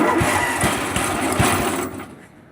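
A Massey Ferguson 8 hydrostatic garden tractor engine idles near and loud with a steady low chugging rhythm, then drops in level toward the end as if throttled back.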